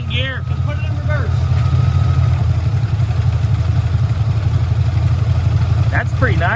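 A 1979 Cadillac Seville engine idles steadily, a low continuous rumble as it is shifted through neutral, drive and reverse, with voices talking over it at the start and end.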